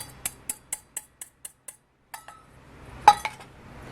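Hot steamed rice and egg being mixed in a pan: a spatula taps the metal in a quick, even series of light clinks, pauses briefly, then gives a few louder, scraping knocks.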